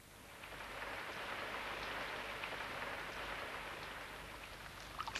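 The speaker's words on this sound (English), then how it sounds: "I shouldn't grumble about the rain." Rain falls steadily in a garden, a soft, even hiss that stays faint and constant throughout with no voices.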